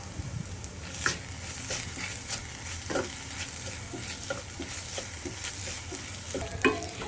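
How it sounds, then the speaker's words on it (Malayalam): Onions with ginger-garlic paste stirred in a frying pan give a continuous sizzle with regular spatula scrapes and knocks against the pan, near and fairly loud, with no speech. "അതിലോട്ട് 1 ടീസ്പൂൺ ഇഞ്ചി വെളുത്തുള്ളി പേസ്റ്റ് ആഡ് ചെയ്ത് ഇളക്കിക്കൊടുക്കണം"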